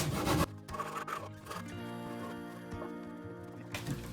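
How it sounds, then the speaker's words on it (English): Light hand sanding or filing on wood during a floating bed build, a close, steady rasping rub with a few scraping strokes at the start, alone without talk. "Giving it a light sanding quickly, or filing."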